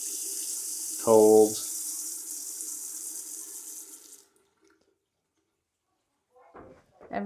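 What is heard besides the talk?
water running from a bathroom sink faucet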